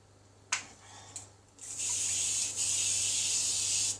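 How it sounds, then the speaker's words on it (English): A few soft clicks and handling sounds, then a steady hissing burst of low-calorie cooking oil spray lasting about two seconds, close and fairly loud. "Then what you want to do is spray them"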